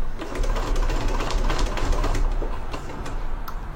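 A sewing machine stitches across fabric in a rapid, steady mechanical patter, close and clear, with no talking over it.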